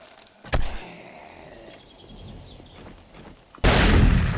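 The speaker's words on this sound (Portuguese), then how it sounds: "Ah, não acredito que deu um tiro de cima" Gunfire in the zombie survival game 7 Days to Die, modded with Ravenhearst: a sharp shot cracks early, and a louder, roaring blast follows near the end over faint ambient game noise.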